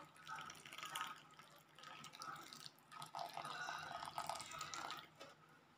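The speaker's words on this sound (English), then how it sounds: "I put hot water in it," Hot water poured from a kettle into a bowl of Quaker oats and milk, a steady splashing, trickling stream at close range, running continuously for several seconds with small surges.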